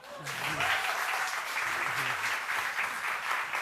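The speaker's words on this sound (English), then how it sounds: "I think we could give him a clap." An audience claps warmly and steadily for several seconds while a person keeps talking over the applause.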